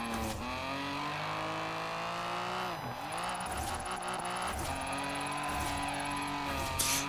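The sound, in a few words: car drifting with handbrake in Forza Horizon 4, video game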